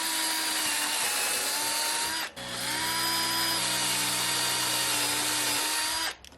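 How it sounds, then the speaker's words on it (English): A power drill bores holes into old farmhouse door wood in two sustained, loud, whining runs, close up, separated by a brief pause. "So I'm going to drill 3 holes, one there, there, and there"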